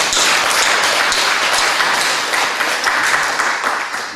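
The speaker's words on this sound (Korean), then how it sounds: "큰 박수 하겠습니다" Loud, dense applause from a congregation fills a Sunday church service, a steady wash of many hands clapping together close by, sustained throughout and tapering slightly at the end.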